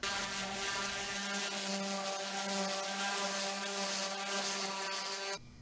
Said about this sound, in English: And finish up with a pad sander.